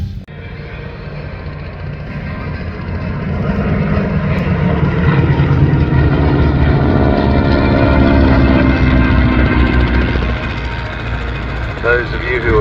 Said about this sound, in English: Those of you who observed the takeoff would have heard there is a definite sound difference between the two